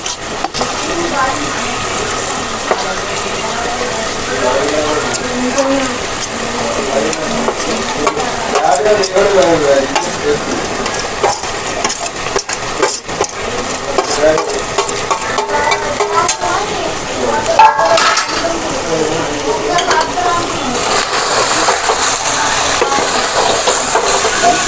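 Chicken curry with coconut and masala is stirred and fried in a pan, giving a steady close sizzle with scraping stirs throughout and no pauses.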